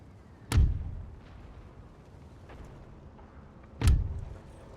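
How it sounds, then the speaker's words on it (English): Napoleonic-era cannons in the game Napoleon Total War fire two distant booming shots about three seconds apart, each a sharp blast trailing into a low rumble over quiet battlefield ambience. "Our 12s and artillery up ahead continue the counter battery"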